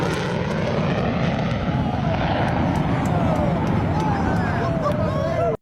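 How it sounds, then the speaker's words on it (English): A B-1 bomber makes a swept-wing high-speed flyby at an air show, a loud roaring jet rush sweeping past with a falling whine as it passes, over crowd noise. "the B-1 Bomber swept wing high-speed pass"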